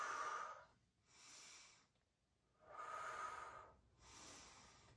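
Slow, deep breaths during a hip stretch in a home workout, two full inhale-exhale cycles close to the mic, soft and airy with quiet pauses between.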